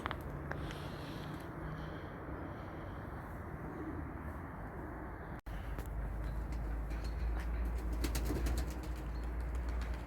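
Low, soft cooing of pigeons murmurs under steady outdoor noise, with a few brief flutters of wings near the start.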